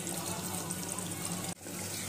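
Water sloshes and trickles as rice is rinsed in a pot, a continuous close liquid churn that cuts off abruptly for a moment before resuming.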